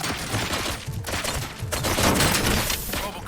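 Sustained gunfire in the video game RoboCop: Rogue City, a loud, dense burst of rapid shots and impacts that continues without pause through the whole moment.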